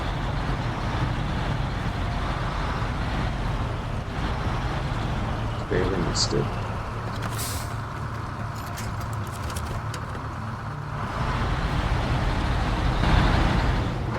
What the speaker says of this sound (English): tow it out to the garage driving this truck